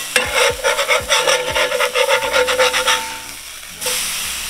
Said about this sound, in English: I like to use the bottom end of the spatula, scrape it off.